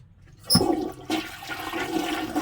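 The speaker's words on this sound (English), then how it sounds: "Let's see if it flushes." A toilet flushes once the water supply is restored, beginning abruptly with a loud rush of water that then keeps pouring steadily at close range with no voices over it.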